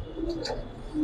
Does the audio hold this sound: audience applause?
no